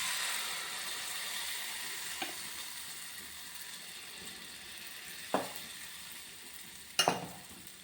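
Coconut dosa batter sizzles in ghee on a pan over a low flame, a faint steady hiss with a few sharp clicks of utensils, no voices.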